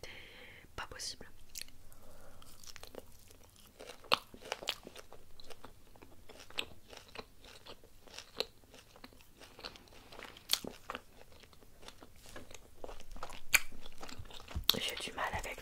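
Close-miked chewing of meat brochettes, with soft wet bites and crunchy mastication repeating irregularly throughout, alongside quiet whispered speech.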